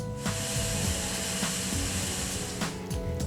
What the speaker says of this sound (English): Set the Micro-Deval machine to its designated revolutions.